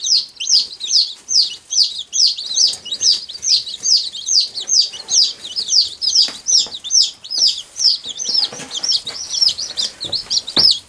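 Baby bantam chicks kept in a pet carrier under a 40-watt light chirp continuously, a dense run of high, rapid peeping calls close by, with no talk.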